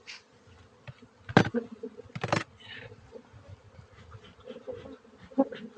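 Honey bees buzz around an older hive on a Texas ranch, a faint, steady hum close by with a few sharper knocks and clicks of hive handling.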